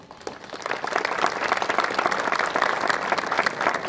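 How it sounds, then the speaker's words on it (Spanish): Crowd applause at a public ceremony with local officials, clapping swelling after a quiet start and holding steady and fairly loud to the end. "Un aplauso para ella."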